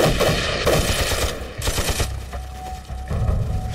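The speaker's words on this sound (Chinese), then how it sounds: "谁开枪啊？ 好像是鬼子开的枪。" Rapid machine-gun fire crackles in dense bursts in a war film battle scene, loud and close, with sustained volleys and brief pauses between them.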